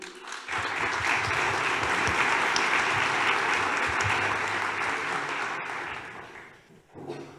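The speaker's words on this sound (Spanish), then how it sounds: "recibimos con un fuerte aplauso a Oscar" Strong audience applause welcoming a speaker at a regional planning panel, a dense, loud round of clapping that swells quickly, holds steady, then thins out and tapers near the end.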